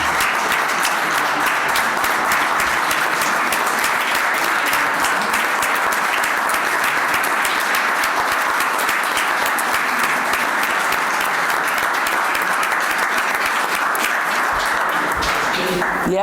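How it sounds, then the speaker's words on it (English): Applause for veterans, including a Purple Heart recipient, fills a town select board meeting room: sustained, dense clapping from a roomful of people, loud and close, carrying on steadily before tapering off near the end. "please stand and let us give you a round of applause"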